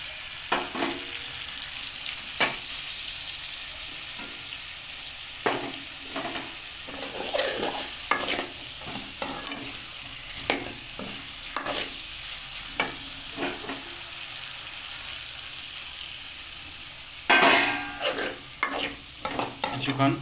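Chicken and chopped tomato stir-fry in a pan under a constant close sizzle, punctuated by repeated rhythmic scrapes and knocks of a spatula, the strokes turning busier and louder near the end.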